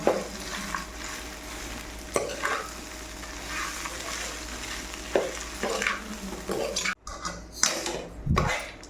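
Poha being stirred in a pan, soft scraping and light sizzling with intermittent spatula clatters against the metal, close and moderately quiet, no voices.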